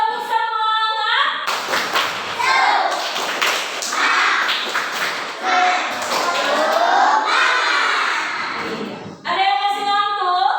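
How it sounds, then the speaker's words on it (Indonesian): A group of children claps a rhythmic spirit clap in a classroom, with quick patterned bursts of hand claps and taps mixed with their chanting voices, ending with a short stretch of voices alone. "coba kita tepuk semangat"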